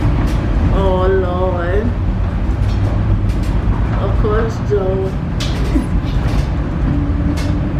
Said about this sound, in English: We found a tram that we can ride.